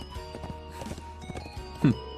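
Horse hooves clip-clop in a steady walking rhythm in the video game Trails of Cold Steel, moderately loud over a low ambient bed, with a short whinny near the end.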